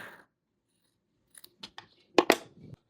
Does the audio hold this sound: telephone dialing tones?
no